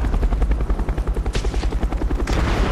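Video game audio of an attack helicopter with rapid, continuous rotor thumping, mixed with bursts of gunfire and battle noise, loud and dense throughout the whole clip.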